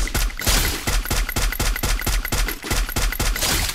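Rapid automatic gunfire in Garena Free Fire, a steady run of sharp, evenly spaced shots that is loud and close and continues without a break for several seconds.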